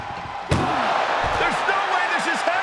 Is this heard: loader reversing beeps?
no